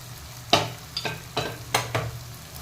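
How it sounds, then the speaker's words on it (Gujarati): Roasted semolina being stirred into a pan for upma, with several distinct scraping strokes of a spoon spaced about half a second apart over a low background hum. "હું આ સ્ટેજ પર રવો એડ કરી દઈશ, જેટલું આપણે શેક્યો હતો ને એ બધો જ."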